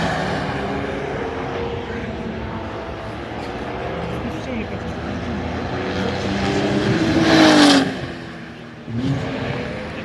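Ferrari cars lapping the Val de Vienne racing circuit, likely including a GT3 Cup car: a continuous engine roar from cars at speed, swelling as one passes close around the eighth second, then easing, with people talking throughout.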